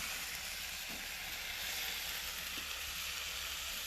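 Ham pie filling sizzles steadily in a pan on a Kamado Joe ceramic grill, a continuous close frying hiss with faint scrapes of stirring, no talk.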